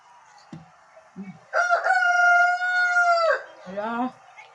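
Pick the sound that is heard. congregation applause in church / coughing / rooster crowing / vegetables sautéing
rooster crowing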